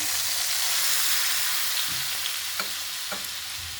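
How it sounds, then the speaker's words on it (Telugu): Tempering poured into pongal in a pressure cooker while cooking Katte Pongali, a faint steady sizzle with a few brief crackles and pops, no talking. "పోపు మొత్తం దీనిలో వేసేసుకుందాం."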